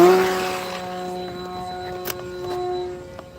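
A giant RC plane hovers with its propeller driven hard, giving a loud, steady buzzing drone with strong even harmonics that stays close throughout, dipping slightly and swelling again as the throttle shifts.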